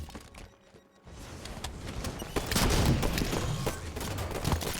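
Sniper gunfire in a video game lands as bursts of sharp shots over a dense, busy game soundscape, quiet at first and then getting louder and fuller after a brief lull.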